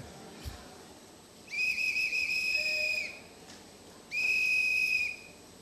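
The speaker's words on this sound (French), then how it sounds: "nous sifflons." People whistling together during a Sunday church service, two long bright sustained whistle blasts separated by a short pause, clear and fairly loud over a quiet room hum.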